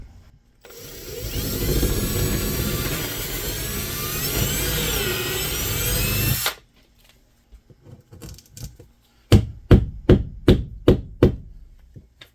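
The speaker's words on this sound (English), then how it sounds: "Before I drill the other one" A power drill whirs loudly and steadily into a wall for several seconds while installing a smart light switch, then stops, followed by quiet knocks and a rapid series of sharp taps.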